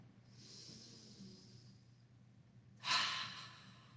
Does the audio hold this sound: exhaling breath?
yes